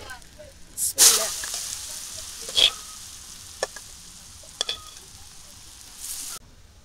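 Cabbage and green chilies sizzle in a hot pan on a Bengali village cookstove, with a sharp loud burst as the vegetables hit the oil, then quieter hissing and a few scattered stirring clatters.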